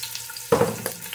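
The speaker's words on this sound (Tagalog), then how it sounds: "Unahin natin ang ginger." Chopped ginger hits a hot pan for salmon sinigang, setting off a sudden short sizzle close by that quickly settles into a soft crackle.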